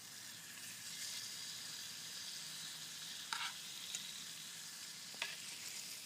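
Squirrel meat browning in a pan over a woodland campfire, a soft continuous sizzle with a couple of faint clinks or stirs standing out briefly.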